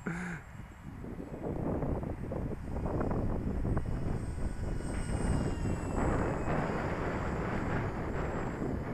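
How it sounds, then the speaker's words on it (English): Wind blowing across an RC model airfield, a steady loud low rumble and buffeting against the microphone that continues for the whole stretch, with a faint high whine in the background. "There's a bit of wind picking up."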